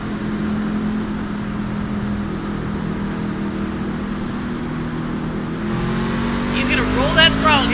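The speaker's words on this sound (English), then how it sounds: "He's revving it up. He's ready to go." Race trucks in a Great Lakes Truck Series all-star event on an oval track drone and rev in a steady engine roar, with a car rushing past near the end, under continuous announcer commentary.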